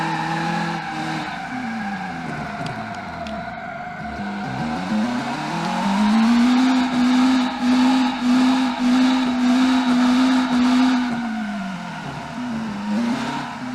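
A racing car in a driving video game revs hard and spins out with tire squeal. The engine note swoops down and then holds a loud, steady drone before easing off at the end. The sound is close and continuous, with no speech.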